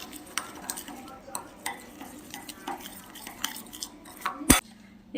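Spoon stirring a coffee powder face mask mixed with sugar and milk in a small bowl, giving soft repeated scraping and light clinks with one sharper knock near the end, close and fairly quiet.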